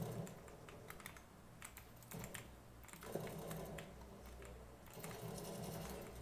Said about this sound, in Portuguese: fiz o teste desse teclado